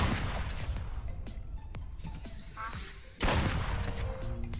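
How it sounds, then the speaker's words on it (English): Gunshots in the video game Duck Season, several sharp cracks scattered over a noisy game background, with one loud blast near the end followed by a sustained roar. "He is not happy that I keep shooting him in the dick."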